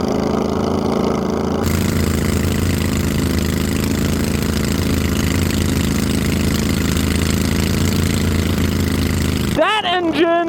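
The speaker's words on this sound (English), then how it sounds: "That engine is actually working for its money." A steady, loud 650cc V-twin mower engine drone under load cutting four-foot-tall grass runs throughout with a constant mechanical roar, ending in a brief burst of other sharp noise.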